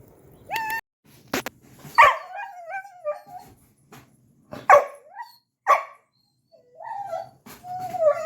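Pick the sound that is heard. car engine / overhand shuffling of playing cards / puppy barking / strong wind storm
puppy barking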